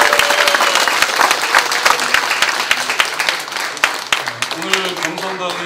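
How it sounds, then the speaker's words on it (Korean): Party members at a political rally give a dense burst of applause and cheering that fades over several seconds, and a voice speaks near the end. "전북도당 당원님들의 뜨거운 함성과 힘찬 격려의 박수로 시작하도록 하겠습니다"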